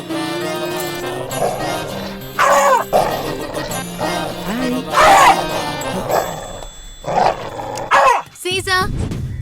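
A dog in a comedy scene gives several loud barks and growly yelps in separate bursts spread across the clip, mixed in with people talking.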